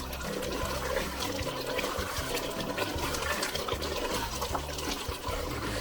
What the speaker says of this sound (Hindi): 3 से 4 बड़े टेबल स्पून जो है वो पानी के डाले हैं